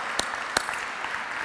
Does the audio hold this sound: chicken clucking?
no